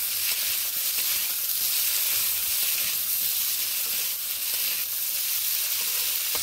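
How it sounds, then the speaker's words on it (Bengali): Boiled potatoes frying in oil, a loud, steady, dense hiss of sizzling that carries on evenly throughout without pause. "এবার এখানে আমি সেদ্ধ করে রাখা আলুগুলোকে আমি এইভাবে ভেজে নেব"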